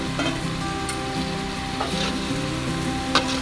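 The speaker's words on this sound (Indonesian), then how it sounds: "kita masukkan kentang yang sudah digoreng setengah matang ini" Half-fried potatoes sizzle steadily in a pan with beef and black pepper for a stir-fry, a loud, even crackling hiss with occasional scrapes and clinks of stirring and no talking.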